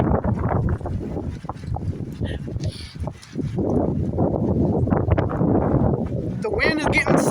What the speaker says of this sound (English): The wind is getting severe, y'all.